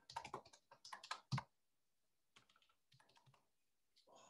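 Bursts of quick keystrokes on a computer keyboard during a task-app demo, a clustered flurry of clicks followed after a pause by lighter, sparser tapping, close and alone with no talk.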